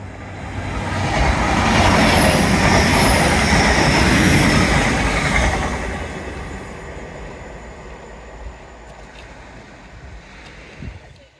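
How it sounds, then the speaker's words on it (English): A train runs past along the waterfront at Teignmouth, a loud broadband rumble that swells over the first five seconds, then fades away into calm background noise with a faint knock near the end. "Yay, first train."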